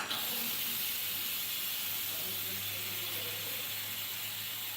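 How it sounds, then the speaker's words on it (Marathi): A continuous soft hiss of steam escaping as a pressure cooker holding dal and rice is opened in a home kitchen, fairly quiet and even from start to finish with no one talking. "आपण कुकर उघडून बघू कसं झालं आहे"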